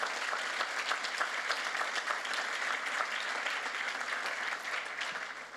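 A church congregation applauds Jesus with steady, dense clapping that fills the room, loud and sustained throughout, with faint voices mixed into the crowd noise.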